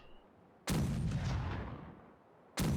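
A ship's broadside cannon booms once, loud and close, in the pirate game Caribbean Legend, then rolls and fades over about two seconds before a second blast cuts in.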